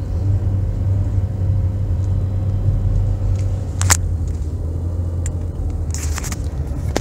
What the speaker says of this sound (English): if you can hear, my engine's going a lot harder